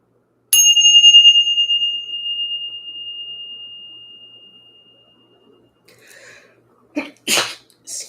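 A single bright bell, struck to clear energy at a spiritual reading, rings out and fades slowly over several seconds. Faint breathing follows, then a sharp sneeze.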